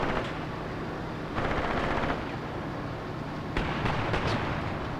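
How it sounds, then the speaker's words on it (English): 2cm cannons firing in a Graviteam Tactics Mius Front battle, loud bursts of rapid automatic fire in two clusters over a constant rumbling din of combat, with no talking. "And the 2cm cannons are starting to sing"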